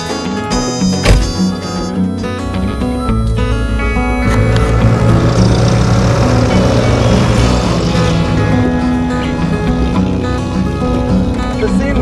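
An old Land Rover carrying a lioness in the back rumbles along steadily in Western Sahara, a loud continuous engine drone with rattling that builds and holds, with someone speaking over it.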